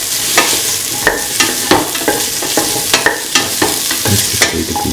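Potato pieces being stirred into a ginger rice mixture in a pan, with repeated scraping and clinking strokes at an uneven rhythm over a soft frying sizzle, close and fairly loud, with no talk.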